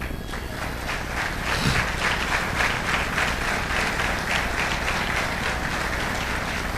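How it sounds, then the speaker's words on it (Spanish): Church congregation applauding together, a dense, steady burst of clapping filling the room for several seconds with no talk over it. "¿Los aplaudimos?"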